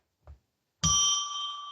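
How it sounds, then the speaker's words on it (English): A single clear bell strike rings out close and bright, its tone sustaining and slowly decaying after a soft thump, used to mark the opening of a ritual. "We're going to ring a bell 3 times now"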